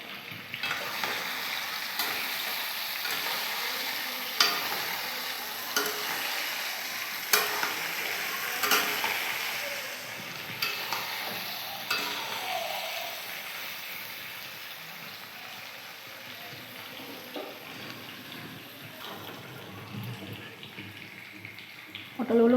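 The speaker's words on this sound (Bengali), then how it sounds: "একটু সময় দিয়ে পটলগুলোকে লাল লাল করে ভেজে নেব।" Pieces of pointed gourd (potol) frying in a pan until reddish give a continuous oily sizzle, with intermittent clinks and scrapes of stirring. A voice speaks quietly over the cooking.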